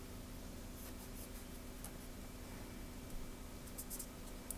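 Gray Pentel Touch brush pen writing on paper, a steady soft scratchy rustle of nib strokes with small faint taps, close and quiet, running continuously with no voices.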